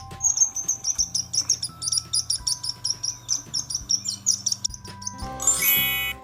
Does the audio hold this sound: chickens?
no